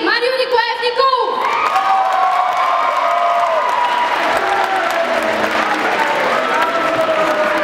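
Loud, sustained audience applause with cheering and whoops at a Christmas charity concert at the First English Language School, greeting the student council president; a voice ends just as the clapping swells and then holds steady.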